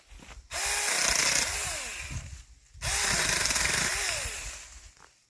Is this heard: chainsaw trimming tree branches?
yes